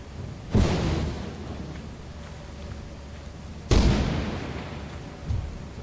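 Giant footsteps in a video game land as two heavy, booming impacts about three seconds apart, each loud and sudden, then fading under a quieter ambient bed.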